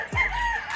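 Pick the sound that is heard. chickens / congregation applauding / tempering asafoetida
chickens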